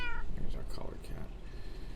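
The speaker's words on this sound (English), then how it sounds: "There's our collared cat." A collared cat in the Minecraft video game gives a few short meows under steady talking and in-game background sound.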